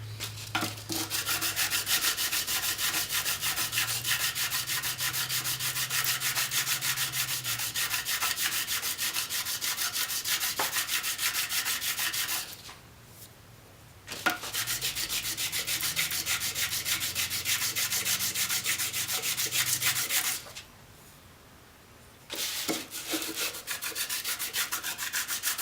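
Steady, close rasping and rubbing while deburring chamfered holes during knife making, continuous for long stretches with two brief pauses, no talking.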